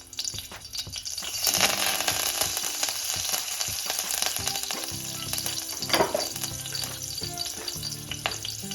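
Green chilies and curry leaves sizzle in hot ghee for Maharashtrian tomato saar, a continuous crackling fry with stirring and a few clinks, close and steady with no voices.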